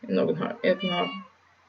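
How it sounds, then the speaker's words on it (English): A house cat meows in the background in a quick run of three or four tonal, wavering calls that trail off, fairly close and clear. "And that's my cat in the background."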